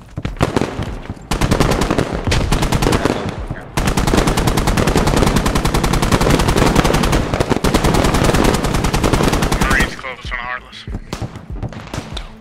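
Sustained automatic machine-gun fire rattles loud and close in a military video game on the Sanxian Islands map, in long dense bursts with a short gap, fading to scattered distant shots near the end while voices talk over it.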